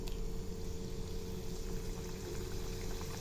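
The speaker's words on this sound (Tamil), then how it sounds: "இப்போ ஸ்கொயராக கட் பண்ணதை நம்ம இதை பொரித்து எடுத்துடலாம்." Square pieces of kalakala snack dough frying in hot oil, a steady, fairly quiet bubbling sizzle with no talking.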